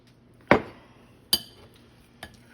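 A utensil mixes butter into cornbread batter in a bowl, striking the side in three distinct clinks spaced about a second apart, the first loudest and the last faintest, against near silence.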